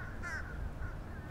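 American crows caw while feeding on red cedar juniper berries, a short harsh call cutting over steady outdoor background noise, moderately near.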